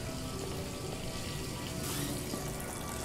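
Water runs steadily into a bathtub in the video game Detroit: Become Human, a continuous broadband rush of filling water heard alone and fairly close throughout.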